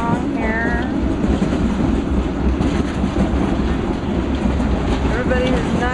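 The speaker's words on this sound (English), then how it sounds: "they're hooking up more of the train right there" Railroad cars are coupled and shuffled during a Copper Canyon train trip in Mexico, giving a steady rumble with clanks and faint squeals throughout, close and continuous.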